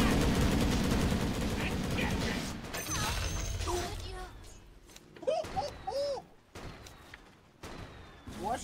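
Gyrocopter's Flak Cannon attacks in Dota 2 firing as a dense rattle of rapid shots, then breaking into scattered sharp pops and metallic whistles amid other battle noise, with a voice talking over it.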